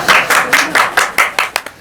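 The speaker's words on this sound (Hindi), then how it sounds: "तालियां" Several people clap in a steady, brisk rhythm, close and loud, about a dozen claps over a couple of seconds, in a comedic shop scene.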